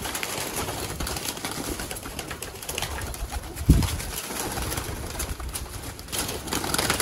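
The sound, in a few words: golden pigeons cooing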